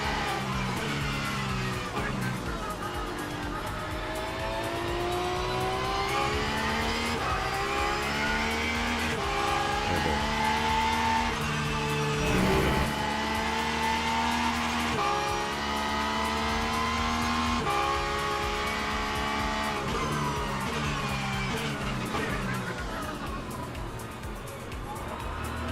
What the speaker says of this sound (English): This BMW is driving very aggressively, folks.